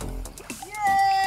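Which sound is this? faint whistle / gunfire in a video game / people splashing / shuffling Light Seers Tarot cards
people splashing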